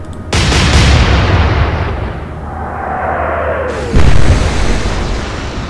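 The cruiser Sheffield fires its naval guns in the Atlantic Fleet video game: two heavy booming blasts a few seconds apart, each with a long rumbling tail, loud and close.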